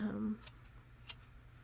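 Scissors snipping thread strands on the back of punch needle work, two quick faint snips about half a second apart after a brief low hum.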